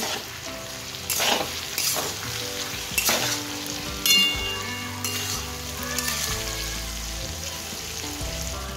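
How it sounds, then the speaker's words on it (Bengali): Potatoes and onions sizzle and fry steadily in a pan with turmeric for a dry mixed vegetable dish, with occasional louder bursts of stirring and scraping over a continuous hiss; no talking. "আলু আর পেঁয়াজটা ভাজা ভাজা হয়ে গেছে"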